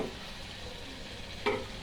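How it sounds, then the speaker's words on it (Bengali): Onion and spice paste for greens sautés quietly in a pan, a faint continuous sizzle with one brief utensil clack near the end. "দেখুন আমি শাকের মশলাটা ভালো করে কষিয়ে নিয়েছি"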